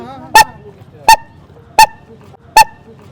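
A man imitates a goose-like honk with his mouth, four loud, evenly spaced nasal honks roughly every three-quarters of a second, alone against a quiet background.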